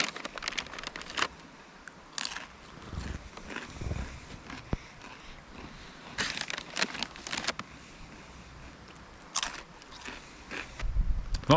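Loud, close crunching of extra-crunchy spicy rolled corn snacks, with repeated bursts of biting and chewing mixed with bag crinkling, heard outdoors at a snowy truck campsite in freezing temperatures.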